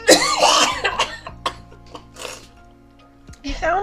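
Harsh, repeated coughing fits from a person choking on cracker crumbs, loud and close, with bursts and gulps spaced across the clip and a final cough near the end.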